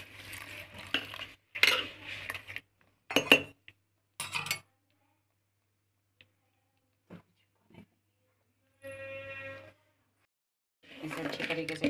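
A spoon stirs a cold homemade tomato sauce mixture in a pot, giving a few light scrapes and clinks between stretches of speech.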